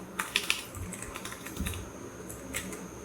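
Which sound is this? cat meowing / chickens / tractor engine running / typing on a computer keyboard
typing on a computer keyboard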